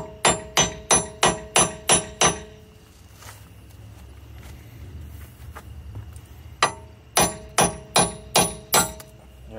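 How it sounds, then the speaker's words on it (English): A hammer strikes a brake rotor on a Mitsubishi Outlander to drive out a broken wheel stud, sharp metallic blows in two rapid bursts of about seven hits each, separated by a quieter pause with faint background hum. "Take a hammer, whack it a few times."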